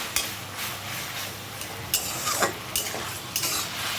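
Greens frying in a pan and being stirred in a vegetarian home kitchen: a steady sizzle runs underneath while a spatula scrapes and clinks against the pan in several sharp strokes.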